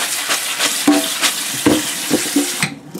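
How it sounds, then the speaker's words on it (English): Cooked pasta for an Italian pasta salad is rinsed under running water, a steady close hiss of flowing water with a few light clinks, then it cuts off near the end. "let's rinse off our pasta so it don't be all sticky"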